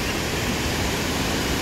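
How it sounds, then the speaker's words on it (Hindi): Glacial meltwater stream flowing below Rakaposhi peak in Gilgit-Baltistan, heading down toward the Indus, heard as a steady, dense rush of water with no voices. "ग्लेशियर मेल्ट होके पानी नीचे की तरफ जा रहा है रिवर इंडस में।"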